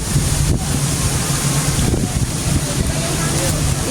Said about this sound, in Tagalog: Grabe yung hangin dito, oh.